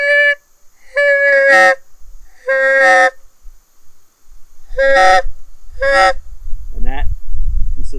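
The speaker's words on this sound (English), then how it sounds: "Today we're going to talk about tuning techniques for our hybrid goose flute." An OMNI hybrid goose flute call sounds a series of loud, close honking goose notes in short bursts and pairs, with a low rumble growing underneath toward the end.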